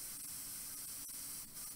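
Windex cleaner sprayed through a paint brush during end-of-day cleanup, a steady hissing spray that runs close and continuous with slight pulses.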